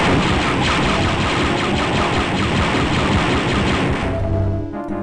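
Dense, continuous gunfire in the retro boomer shooter Heavy Bullets, a steady roar of rapid shots that holds for about four seconds before cutting out into quieter game sounds.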